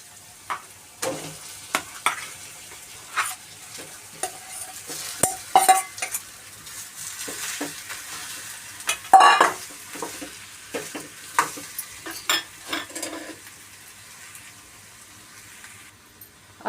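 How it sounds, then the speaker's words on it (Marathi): Boiled potatoes and turmeric powder stirred in a pan for street-style vada pav, giving repeated scraping and stirring strokes with light sizzling and occasional clinks of a utensil against the pan, fairly close and with no voices. "आणि आता मी घालून घेते हळदी पावडर. आणि हे आपले उकडलेले बटाटे."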